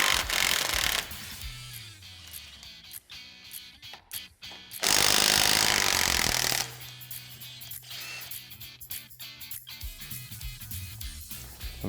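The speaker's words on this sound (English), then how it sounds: "So now we're going to remove our two brake caliper bolts." Bolts on the front brake caliper of a Polaris RZR PRO R come out under a loud, harsh burst of an impact or power tool. Tool noise starts and stops in short runs with an uneven rhythm, close to the listener.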